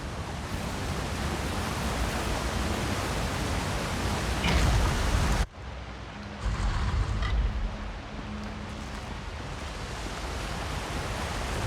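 A waterfall in The Elder Scrolls Online rushes as a dense, steady hiss of falling water, loud and continuous, with a brief dip midway before it resumes.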